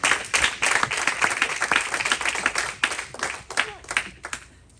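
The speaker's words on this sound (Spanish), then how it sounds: "No sé si le da un aplauso fuerte al Señor." A church congregation claps loudly and fairly evenly for several seconds during a Sunday sermon, with scattered voices over the clapping before it fades out.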